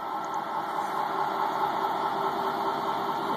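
Balancing machine spinning a pump impeller and motor rotor together in a pump repair shop, giving a steady, fairly quiet whirring drone with a faint mechanical hum and no breaks.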